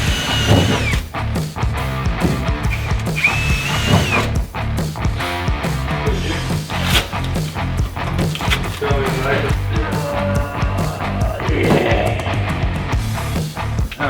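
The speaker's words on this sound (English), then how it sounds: "You can drill it." Power drilling into a Holden Torana during fuel system work, repeated bursts of drill and clattering tool noise close by, with people talking between bursts.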